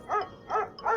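Three loud, close dog barks in a steady rhythm from a dog in a dog life simulator video game, with short pauses between them and no talk over them.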